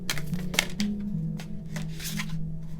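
Tarot cards being given a quick shuffle, a run of soft papery riffles and slaps heard close, with a steady low hum running underneath throughout.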